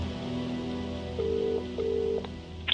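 Phone being dialed in the game Contradiction: two short, clear tone beeps of even length over a soft background hum, followed by a faint click.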